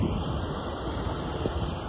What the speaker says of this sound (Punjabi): ਹਵਾ ਚੱਲ ਪਈ ਬਾਈ, ਹਾਂ ਚੱਲਦੀ ਆ।